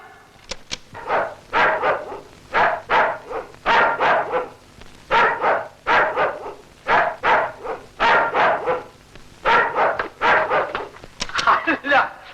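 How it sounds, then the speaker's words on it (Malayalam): A dog barks over and over in a steady, rapid series, loud and close, with short gaps between bursts. "ആ കടിക്കുന്ന പട്ടിയുണ്ട്, സൂക്ഷിക്കണം."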